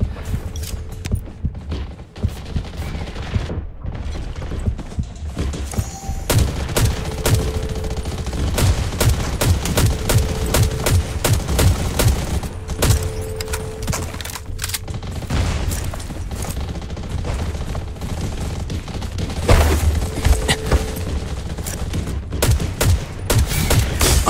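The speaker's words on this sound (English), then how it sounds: "Where am I getting sniped from?" Dense sniper shots and rapid automatic gunfire crackle through a firefight on Radiation Island in the zombie survival shooter Undawn, with repeated cracks and bursts, some near and loud, others distant, continuing throughout.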